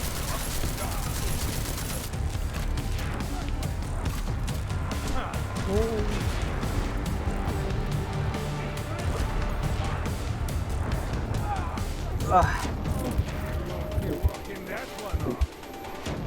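Gunfire in the video game Deus Ex: Mankind Divided, a steady barrage of shots and crashes over dense game noise that carries on throughout, with someone talking over parts of it.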